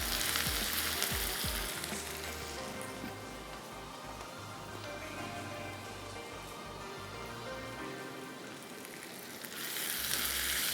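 Garlic and ginger paste frying in a pan while cooking chicken mince curry, a loud continuous sizzle with stirring scrapes and low knocks, close and steady throughout.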